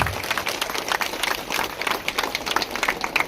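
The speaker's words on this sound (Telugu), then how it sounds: "గట్టిగా క్లాప్స్." An audience at a public event claps, a steady dense patter of many hands heard moderately close with no pauses.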